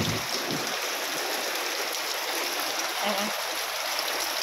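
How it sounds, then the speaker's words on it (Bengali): Floodwater pours onto a home veranda in a continuous loud rushing stream, with a voice faintly audible under the flow. "জল দেখো সব বারান্দায় জল চলে আসছে।"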